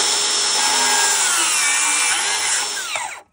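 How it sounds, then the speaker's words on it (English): A circular saw makes a plunge cut with a loud, close, high-pitched whine that holds steadily for about three seconds, then quickly winds down and stops. "First, the circular saw. Pull that guard up."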